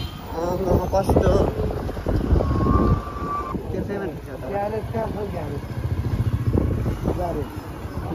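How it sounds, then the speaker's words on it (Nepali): A faulty motorbike runs along a road in Nepal, its steady engine drone buried under strong wind buffeting at the microphone, with someone talking over much of the ride. "बाइक बिग्रेर तनाव दिइरहेछ आज"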